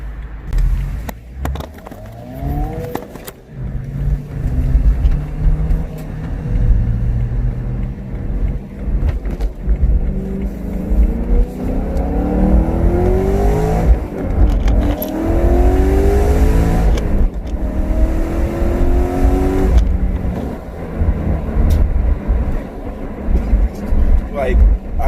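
A BMW E92 M3 fitted with a BimmerWorld exhaust accelerates along a city street, its engine note climbing through repeated rising sweeps, loud and close, with a driver talking over parts of it.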